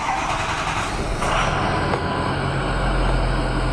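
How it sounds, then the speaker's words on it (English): A Ford 6.0 liter Powerstroke diesel truck engine cranking and starting after a fuel injector installation, a short steady mechanical churn that settles into a loud, continuous low rumble. "So let's go ahead and try and crank this thing up and see if it starts."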